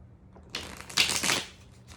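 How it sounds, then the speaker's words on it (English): A deck of cards is riffled and shuffled briefly up close, a quick papery flutter of rapid snapping that builds and then stops. "I'm gonna shuffle one more time"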